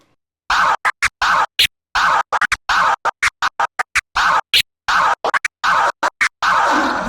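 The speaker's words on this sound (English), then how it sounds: "Again, 1 bar and then 2 bar, your full scratch pattern." Rhythmic DJ turntable scratching, quick chopped bursts with sharp cuts between them, played alone and loud for several bars.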